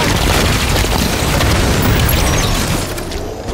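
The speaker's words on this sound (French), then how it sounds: "J'envoie une grenade!" A loud grenade blast booms in Halo 5, a dense roaring explosion filling the moment before tapering off.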